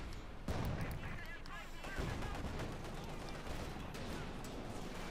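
Gunfire in the Company of Heroes 2 strategy game, rounds striking a T-34 tank near a Panzer, as dense continuous volleys and explosions with a commentator talking over the noise throughout.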